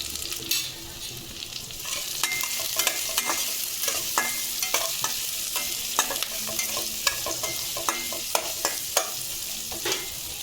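Turmeric and coriander powder stirred into a sizzling dosa masala filling in a pan, a constant loud fry with repeated spoon scrapes and knocks against the pan, no voices.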